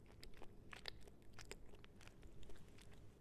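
Close, crisp crunching bites and chewing on a Costco bacon, gouda and egg breakfast sandwich, with several sharp crackles over about three seconds and no talking.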